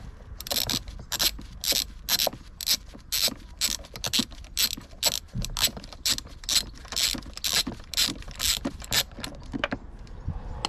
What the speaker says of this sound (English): get a spark plug socket on it, and take it out. So that's the socket on there, and we'll just wind it out now.